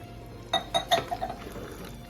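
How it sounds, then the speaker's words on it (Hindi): Half a cup of water goes into a pot of baingan gosht, with a few light clinks of vessel against vessel followed by a short, soft pour. "मैं इसके अंदर ½ कप पानी लगाऊंगी"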